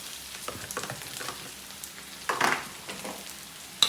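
Grated carrots frying in oil for Filipino-style spaghetti sauce, a soft, close sizzle with light stirring scrapes and a couple of louder clinks of the utensil against the pan.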